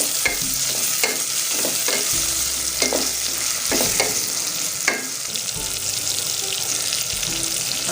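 Onions frying in a pan for bitter gourd fry, sizzling steadily with repeated sharp scrapes and clinks of a spoon stirring, close and fairly loud with no talk.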